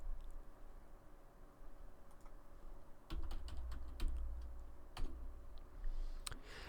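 Computer keyboard being typed on while drafting flange drawings in CAD software: a quiet run of crisp key clicks, sparse at first, then a denser burst of taps in the second half.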